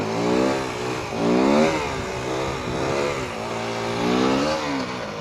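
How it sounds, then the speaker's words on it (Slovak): A 125cc motorcycle engine revs hard at full throttle while launching into a wheelie, surging up and down in repeated loud, close rising and falling sweeps with no talking. "plný plyn a rýchlo pustíš spojku, si hore"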